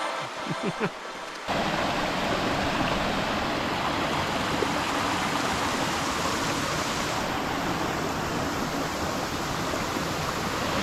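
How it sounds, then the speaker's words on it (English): Steady broadband roar of the sixth waterfall on the Hum and 7 Waterfalls hiking trail in Istria, loud and continuous, preceded by a brief muffled rustle and soft sounds before the water's rush swells in. "Waterfall number 6."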